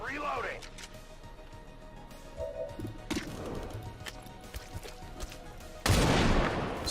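Sniper rifle fire in the video game XCOM 2 during a Nightmare-difficulty mission, with a few sharp shots spaced seconds apart, the last one loud and booming, while a player talks over the action.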